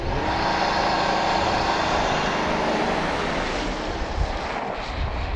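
A 2021 Rolls-Royce Ghost with a twin-turbo V12 making a hard launch, heard from inside the car: a smooth, steady, loud engine and road roar that holds strong and then eases slightly.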